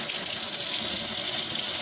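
Water drains steadily from the secondary reservoir at the bottom of a countertop nugget ice maker during rinsing, a continuous close-up hiss and trickle with no talk.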